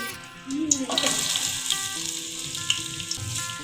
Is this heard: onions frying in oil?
yes